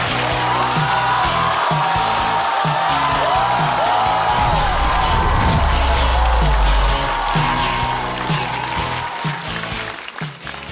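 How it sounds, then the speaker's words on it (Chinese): A stand-up comedy stage show audience gives a dense, sustained burst of clapping and cheering to welcome a comedian, with loud entrance music underneath, the applause fading slightly toward the end. "掌声欢迎秋月"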